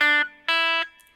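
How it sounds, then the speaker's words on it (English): An electric guitar plays two short, clipped notes of a blues lick in E, each cut off by palm muting, close and clear with no talking. "You'll notice that I was muting the notes as I was going up on those first 3 notes like this."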